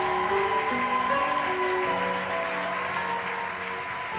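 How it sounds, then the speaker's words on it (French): A church congregation applauds the newly born-again during a Sunday service, a steady wash of clapping from many hands filling the room throughout, with sustained musical tones underneath and no speech. "Acclamons pour ceux qui viennent de naître là."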